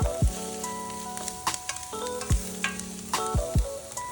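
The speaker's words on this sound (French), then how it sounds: "J'ai fait revenir le tout." Sliced onion and leek sizzle in margarine in a pan, with close utensil knocks and scrapes breaking through a steady fry; tonal clatter rings between strokes, no talking.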